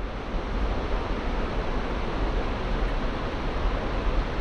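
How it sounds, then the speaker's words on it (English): A large waterfall with a huge drop roaring on a backpacking trip, a steady broadband rush of falling water that fills the whole stretch without pause. "Big old waterfall. Huge drop."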